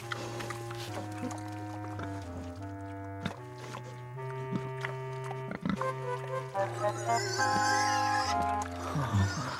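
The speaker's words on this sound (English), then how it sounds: "Thanks, little pig." A cartoon pig oinks and grunts in short bursts over a steady musical score, with tonal animal calls rising toward the end of the passage.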